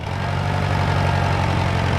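A tractor engine runs steadily while working its front bucket on a barn job, a loud, close, unbroken low drone with no voices over it.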